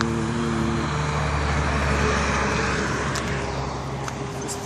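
Steady road traffic with heavy lorries and cars rolling past a roadside on a rural route to a village, a constant broadband rumble with a low engine drone, no talking.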